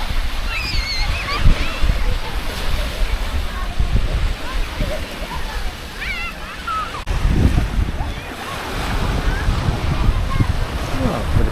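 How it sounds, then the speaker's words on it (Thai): Ocean surf washes onto Hat Sor beach at Sattahip, Chonburi, as a steady, rough roar of breaking waves mixed with wind buffeting the microphone, while people talk nearby and birds chirp faintly. "โอ้ดูบรรยากาศของชายหาดซ้อนนะครับ"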